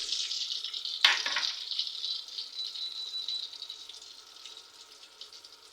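Whole garam masala spices dropped into hot oil for a broiler chicken curry, giving a sudden loud crackle followed by a steady, close sizzling and frying hiss that slowly fades, with no talking.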